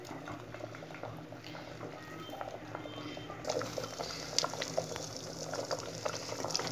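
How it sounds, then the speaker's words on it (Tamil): A pot of horse gram dal kulambu at a rolling boil, with steady close bubbling and popping that grows slightly livelier and louder partway through. "பாருங்க, எல்லாம் போட்டு கொதிச்சாச்சு."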